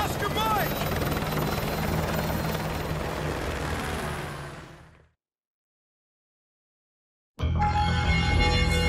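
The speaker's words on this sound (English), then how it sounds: "I'll brief you on the chopper" Helicopter in the video game Call of Duty: Modern Warfare 2 Remastered, a loud steady rotor drone that fades out into silence, then returns abruptly with engine noise and a voice speaking over it.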